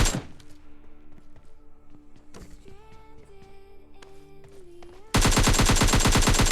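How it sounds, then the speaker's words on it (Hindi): Gunfire in the PUBG Lite battle-royale game, including Kar98 sniper rifle shots: a few sharp isolated cracks over game tones, then a loud, dense burst of firing at the end. "सामने ना भाई मेरे को एक कार 98 का साउंड आता है।"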